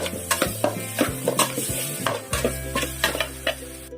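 Tomatoes fry with shallots in a pan under rhythmic stirring, with a soft sizzle beneath repeated scraping and clinking of a spoon against the pan, close and fairly quiet.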